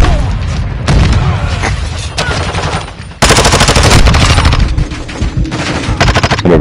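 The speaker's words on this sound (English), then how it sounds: "Grenade!" Grenade explosion and gunfire in a video game battle: loud sustained volleys of rapid automatic fire, a dip, then a heavy booming blast followed by dense continued shooting, all close and intense.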